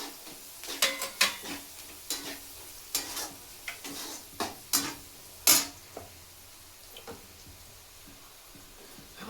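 Mustard seeds in hot oil in a home kitchen pan, with a string of sharp crackling pops and stirring clinks over a faint sizzle that die away toward the end.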